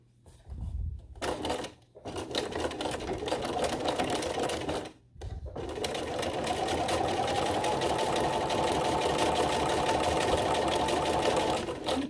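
A sewing machine stitches a fabric face mask slowly around a curve, whirring steadily and close up for most of the stretch after a couple of brief stops and restarts.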